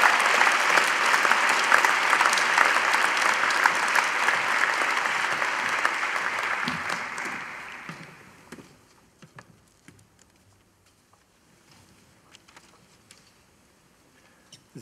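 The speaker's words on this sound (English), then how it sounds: "Please join me in a round of applause to the graduating class." Audience applause for a graduating class at a university graduation ceremony, a dense sustained clapping that fills the hall for about seven seconds, then fades out into quiet room noise with scattered claps.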